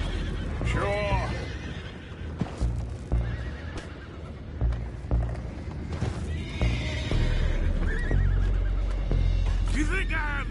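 Horses whinny and neigh repeatedly while hooves clip-clop beneath, with people talking over the scene in the Red Dead Redemption 2 video game, amid busy game ambience.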